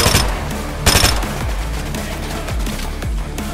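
Rapid gunfire in the video game Fortnite, with dense bursts of shots and sharp impacts crowding the whole stretch at steady loudness, including one heavier blast near the start of the second second.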